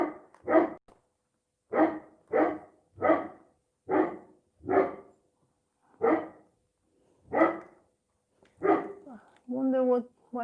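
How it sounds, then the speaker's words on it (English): A dog barks repeatedly outdoors in a garden, about a dozen sharp barks in an irregular rhythm, fairly close, with a brief tonal sound near the end. "Wonder why he's barking."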